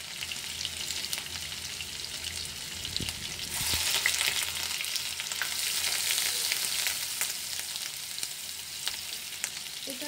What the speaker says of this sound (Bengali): এটাকে একটু ভাজা ভাজা করতে হবে।